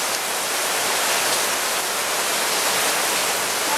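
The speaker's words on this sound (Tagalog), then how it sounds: "Sobrang lakas po ng ulan." Heavy rain pours down in a dense, even hiss of countless drops, loud and constant without any pause or voices.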